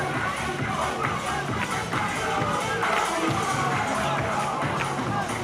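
A baseball stadium crowd at a rainy minor-league game makes a steady, broad roar of cheering and murmur, continuous and far-spread, with no single voice standing out.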